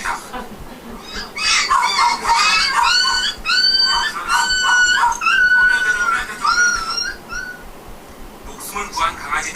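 Rescued puppies, white Korean Jindo-type pups caked in mud after days buried under building rubble, whine and yelp in high, wavering cries near their mother dog, with a murmur of voices and activity around them.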